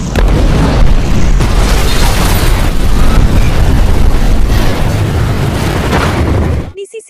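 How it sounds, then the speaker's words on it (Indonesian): A car bomb detonates outside a university campus in a film, a loud rumbling boom that roars on for several seconds before cutting off abruptly, followed by a few faint sounds. "Dan mobil itu berhasil dibawa keluar oleh Zhu dan meledak di luar kampus."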